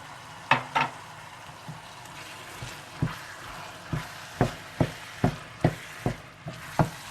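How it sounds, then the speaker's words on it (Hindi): Carrots, celery, tomato and tomato puree stirred and fried in a pan, with a soft steady sizzle under a run of a dozen sharp spoon-scrape knocks coming roughly every half second, close and clear with no talk. "गाजरें और सैलरी को 2 से 3 मिनट भूनने के बाद आप इसमें डाल दें टमाटर और टमाटो प्यूरी, और इसे अच्छी तरह से मिला लें"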